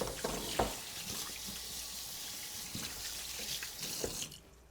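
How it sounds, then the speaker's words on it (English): Running tap water splashes over hands at a kitchen sink during home cooking, a steady close wash with brief louder splashes and no talking. "let me just get my hands washed here"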